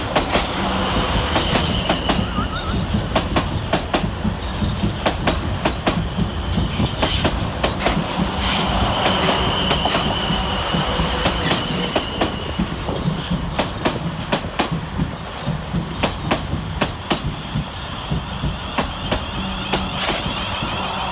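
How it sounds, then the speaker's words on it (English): Two coupled South Western Railway Class 444 electric units, 444044 and 444037, roll into Basingstoke station with a steady rumble, rapid wheel clatter over rail joints and occasional thin squeals, continuous and fairly close throughout. "Next up we see the arrival of 444044 and 444037, working the 1349 South Western Railway service from London Waterloo through to both Weymouth and Poole."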